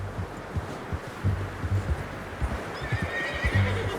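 Horse in Red Dead Redemption 2 gives a loud, close whinny over a steady run of hoofbeats, with the clopping of hooves continuing throughout.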